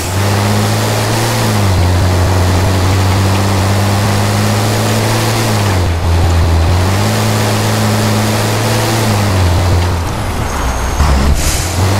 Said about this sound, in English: Cross river, danger 2.